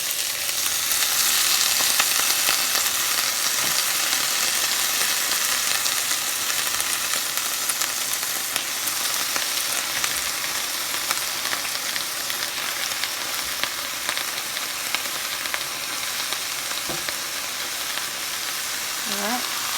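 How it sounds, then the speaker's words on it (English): Watercress fries in a skillet with a steady, dense sizzle that holds close and loud the whole way through, with faint stirring scrapes but no talking. "I'm going to take our watercress and start putting it in the skillet."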